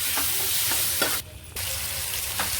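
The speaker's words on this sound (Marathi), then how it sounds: "मिरचीला अशी छान सगळ्या बाजूने मस्त फ्राय करून घ्यायची" Green chillies with masala and thick curd frying in a pan, a dense steady sizzle with occasional stirring scrapes, briefly dropping away for a moment before resuming.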